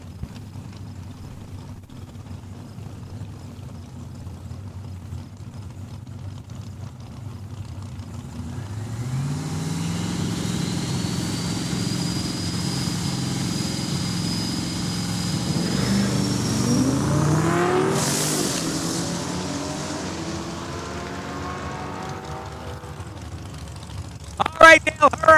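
Drag race test pass by a 1968 Chevelle and a Challenger at Saskatchewan International Raceway: engines idle, then a loud rising launch roar builds and sweeps past, climbing through gears before fading away, with an announcer talking over it.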